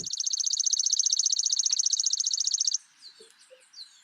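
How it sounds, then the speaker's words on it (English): A chipping sparrow sings a rapid, dry, even trill on one pitch, lasting under three seconds, close and clear, followed by faint distant chirps from other birds. "So that's the chipping sparrow"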